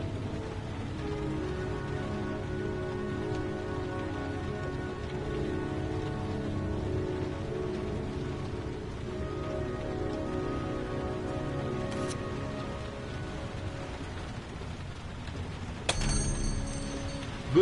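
Steady rain pattering on surfaces in the video game Heavy Rain, a constant soft hiss under a low ambient musical drone, with a few faint clicks and a brief sharp noise near the end.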